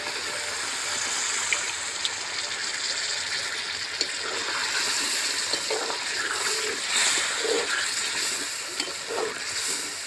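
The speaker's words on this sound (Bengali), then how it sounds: "এবারে দিয়ে দেবো জল" Water poured into a pot of browned goat meat to make the curry gravy, a steady, rushing hiss of pouring and sizzling that runs unbroken for about ten seconds with no voices.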